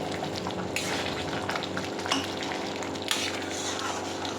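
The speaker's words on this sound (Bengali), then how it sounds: "এবার আমি এটা উপর দিয়ে দিলাম, দিয়ে এটা ভালো করে মিশিয়ে নেব" Hot tempering is poured over a pot of mutton dal gosht and stirred in, giving a steady sizzle and bubbling with occasional scrapes of a spoon against the pot.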